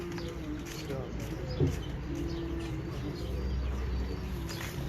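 Pigeons, show breeder birds, cooing softly close by, a low rolling coo repeating under a steady background hum, with a brief knock near the middle.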